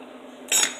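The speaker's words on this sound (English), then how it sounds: "actually I can stir it a little bit more because it is starting to thicken" A single short metallic clink of a utensil against a pot while stirring thickening peach cobbler filling, sharp and close after a low steady background hum.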